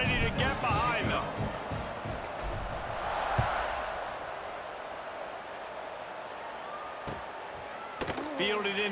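A stadium crowd roars steadily in a college football video game as teams line up for a kickoff, a broad sustained cheer carrying the whole way, with the commentator talking over it.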